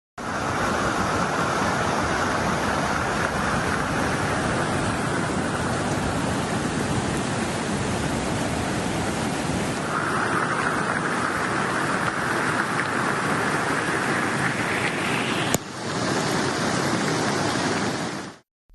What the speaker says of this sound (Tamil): மத்திய பிரதேச மாநிலம் மண்ட்லா மாவட்டத்தில் பெய்த கனமழையால் நர்மதை ஆற்றில் வெள்ளம் கரை புரண்டு